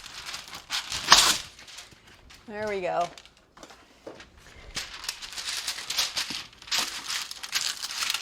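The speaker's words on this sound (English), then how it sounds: "line it with parchment paper" Parchment paper crinkles and tears as it is pulled from a roll and pressed onto a baking sheet for roasting almonds, loud close rustling bursts with a ripping pull, and a person speaks briefly between them.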